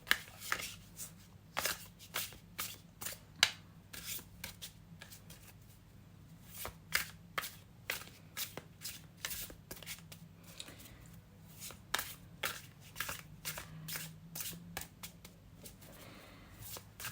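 A tarot card deck is shuffled close up with quick, soft, papery riffles and flicks, repeated in irregular bursts for about seventeen seconds. The shuffling is quiet, and no one speaks.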